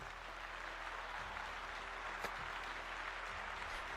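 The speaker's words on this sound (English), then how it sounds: "Let's give them a round of applause" Faint applause from a small group, a steady soft clatter of clapping that continues evenly for several seconds without talk.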